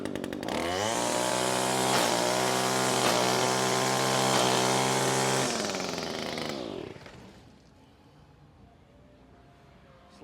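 A string trimmer, a low-power model fitted with a freshly sharpened edge, revs loudly and steadily for about six seconds while cutting off small pieces, then winds down and fades to near silence.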